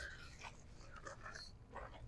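A dog waiting inside a vehicle pants and breathes in short, faint bursts with small whimpering sounds, heard close up and quiet, with no clear barks.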